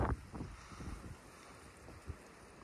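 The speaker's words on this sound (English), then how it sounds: "Let's listen to that wind for a minute." Wind gusts blowing outdoors on a warm, stormy spring day, with soft low buffeting puffs against the microphone over a faint steady rush, fairly quiet and with no talk.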